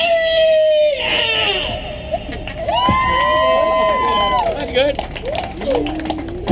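A crowd on the Buccaneer Queen sunset cruise lets out a long, sustained Mexican scream, wavering high voices rising and falling together, loud and near over background party noise.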